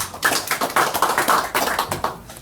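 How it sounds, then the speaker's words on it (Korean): A lecture audience applauding in a hall, a brisk burst of many hands clapping close by, dense and even for a couple of seconds before thinning out. "박수 부탁합니다"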